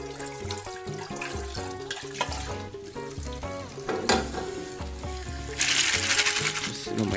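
Water runs from a tap while rice-field snails are rinsed and cleaned in a container, with splashing, sloshing and clinking shells close by and a heavier gush of flow near the end.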